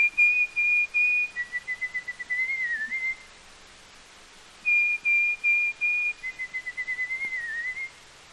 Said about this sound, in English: the sweet tones of his clear, plaintive little whistle that may come floating across the field